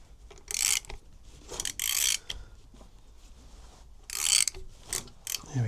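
A Honda RS250 engine turned over by hand during a strip-down, its gears and chain giving close, loud ratcheting clicks in several short bursts with quieter pauses between.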